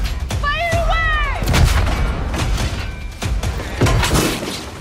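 Ship cannons fire in the Skull and Bones pirate game trailer: several heavy booming blasts land over a dramatic musical score, with voices in the mix.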